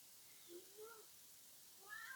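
A cat meows softly several times, first two rising mews and then a longer, higher call near the end. The calls are faint against a quiet room, with no talking.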